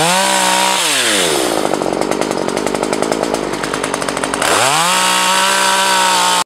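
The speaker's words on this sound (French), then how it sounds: "toujours avec la tronçonneuse, on a fini de dégager l'accès au nid et on a découpé toutes les branches qui maintenaient le nid en position" Chainsaw cutting branches around an Asian hornet nest: the engine revs up from idle, bogs into a steady buzzing cut for a few seconds, then climbs back to a high whine and stops abruptly, close and loud, no talk.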